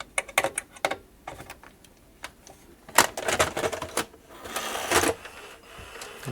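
A National NV-G12 VCR takes in a tape, giving a run of sharp mechanical clicks, clunks and whirring bursts from the loading mechanism, close up and fairly quiet with short pauses between.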